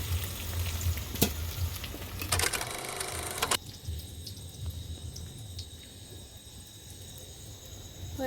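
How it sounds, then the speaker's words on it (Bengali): Potato pieces fry for biryani in a pan of hot oil, giving a steady close-up sizzle with a burst of louder, busier crackling and stirring midway before settling back to an even hiss. "আমার বিরিয়ানির জন্য লাল লাল করে আলুগুলো ভাজা হয়ে গেছে"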